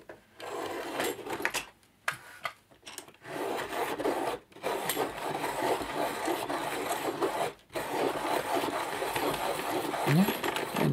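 A Wopex pencil grinding in a Staedtler Mars 501 180 sharpener, a close, steady raspy rubbing that starts in short bursts, then runs continuously for several seconds with one brief pause before stopping.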